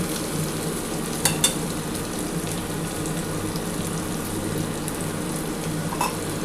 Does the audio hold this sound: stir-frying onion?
yes